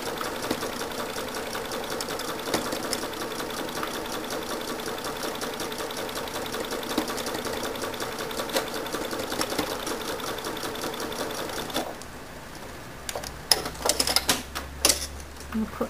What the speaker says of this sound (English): you'll need to stitch a little slower with the metallic thread